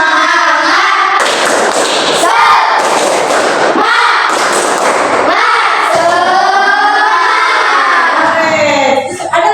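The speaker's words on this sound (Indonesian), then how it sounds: "Tepuk semangat." A classroom of students performs the rhythmic 'tepuk semangat' clapping chant as an ice-breaker, loud bursts of group claps and shouted voices in quick repeated rounds, filling the room up close.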